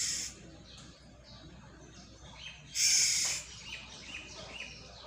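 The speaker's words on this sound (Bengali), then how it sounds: "সুন্দর হলুদ পাখি। আমাকে দেখে সব রাগান্বিত, তাই এরকম শব্দ করছে।" A yellow bird calls outdoors in agitated bursts, with one loud harsh call in the middle surrounded by fainter chirps and tweets, close by and with no voices.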